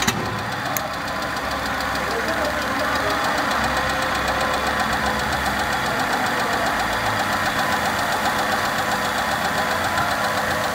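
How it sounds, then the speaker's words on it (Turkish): The rebuilt 1.4-litre engine of a 2011 Hyundai Accent at 541,000 km catches after a brief start and settles into a steady, even idle, heard close up with a fine rhythmic ticking over a constant hum. "Araca marş yapıyoruz."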